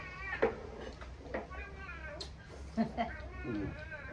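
Several close, insistent cat meows in quick succession, mixed with a person speaking nearby.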